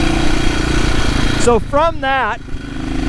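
A 1972 BSA B50SS Gold Star, a 500cc single-cylinder motorcycle, runs on the road with a steady, close engine drone while someone talks over it.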